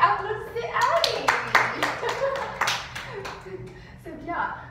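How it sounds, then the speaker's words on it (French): Middle school students clap in a classroom during a French lesson, a burst of scattered, uneven handclaps mixed with children's voices and chatter throughout. "Applaudissez, allez."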